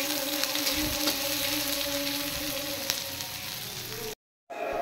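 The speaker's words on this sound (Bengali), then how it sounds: "তেল গরম হয়ে গেছে, এবার আমি পেঁয়াজগুলো ভেজে নেব।" Three medium onions frying in hot oil give a steady, close sizzle with faint crackles, broken by a brief total silence near the end before the frying returns.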